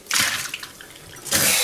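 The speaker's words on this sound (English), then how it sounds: "Just put in some water, put the lid back on, shake it." Water sloshes inside a closed protein shaker bottle being shaken, two loud bursts of splashing separated by a brief quieter pause, close and alone.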